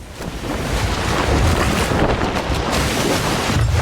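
Storm wind roars and waves crash against a ship in the pirate game Sea of Thieves, a loud, continuous rush of gusts and surf with no talking.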